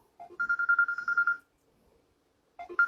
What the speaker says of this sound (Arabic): تليفون يا ابني.